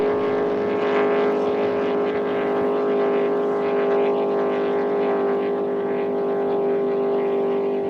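Racing powerboat in an 85mph class race at Geelong, its engine roaring past with a steady, loud high-pitched whine that holds for several seconds.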